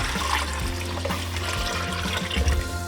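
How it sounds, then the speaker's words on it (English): Broth pours into a hot pan while cooking, a continuous watery splashing and sizzling pour lasting a few seconds. "Now we're going to add our broth."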